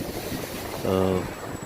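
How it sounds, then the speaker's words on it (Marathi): Strong wind buffeting and a constant wash of sea waves against the stones of Marine Drive, Mumbai, with a brief voice cutting in midway. "भरपूर असं वारा देखील आणि लाटा देखील भरपूर इथे"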